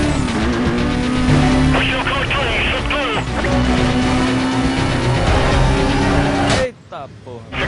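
A car engine revs hard and accelerates in the racing game Need for Speed Most Wanted, a loud, continuous rising whine with voices mixed over it, cutting off abruptly near the end.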